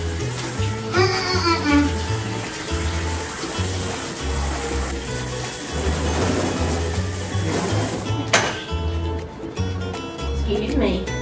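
Shower water running steadily while an English Shepherd dog is washed, a constant hiss and splash under someone talking to the dog throughout.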